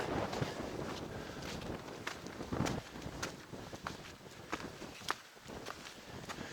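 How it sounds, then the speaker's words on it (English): Gusty wind buffeting the microphone with a low rumble, overlaid by irregular crunching footsteps on the Tongariro Crossing hiking trail in cold weather. "It's got cold and windy,"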